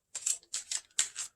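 A deck of playing cards is shuffled close by in three quick, crisp papery bursts, each lasting a fraction of a second.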